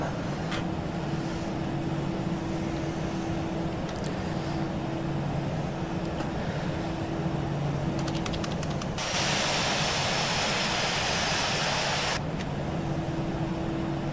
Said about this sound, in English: Now we'll release the parking brake and commence our taxi out.